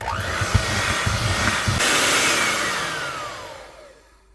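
An electric hand mixer whirs steadily while blending coconut flakes into a dip batter, the motor sound holding strong and continuous before winding down and fading at the end.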